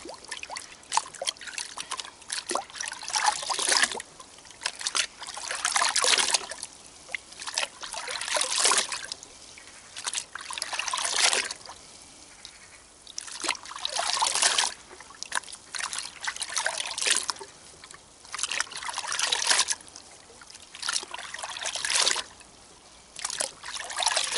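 Plain water trickling and dribbling in a series of uneven bursts, fairly close and quiet, with short gaps between pours and no talking.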